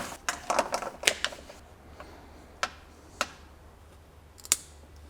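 A hose from a V12 BMW 850i is cut during a restoration, giving a quick cluster of sharp, close snipping clicks followed by a few isolated cuts spaced apart.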